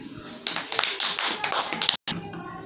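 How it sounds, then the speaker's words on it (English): Children clap their hands together while counting in a classroom lesson, a few bursts of sharp, close claps mixed with voices and a brief dropout near the end. "1, 2, 3. Clap it."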